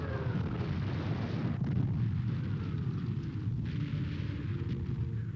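Heavy artillery barrage in WWII archive footage of German paratroopers, a continuous distant rumble of overlapping explosions with no speech over it.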